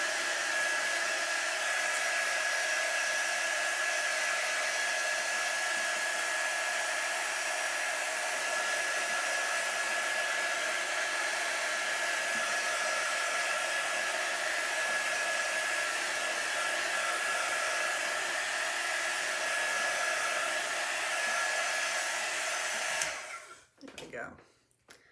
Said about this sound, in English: That's one of the nice things about this drying tool.